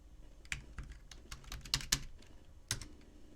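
A computer keyboard is typed on while logging in with a username and password, giving a quiet, irregular run of close key clicks with a few sharper taps.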